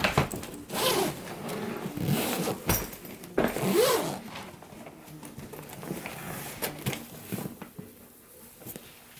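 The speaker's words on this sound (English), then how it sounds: "There's a zipper that allows the bag to expand" The expansion zipper on a Travelpro Maxlite 5 softside spinner suitcase is pulled in several close, rasping strokes, with pauses and quieter scraping between bursts.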